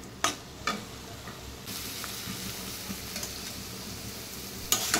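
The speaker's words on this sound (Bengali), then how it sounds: "এটাকে আরও একটু ভাজা ভাজা করে তারপরে নামিয়ে নেব" Steady sizzling of food frying in oil, with occasional scraping clinks of a utensil stirring the pan, close and moderately quiet.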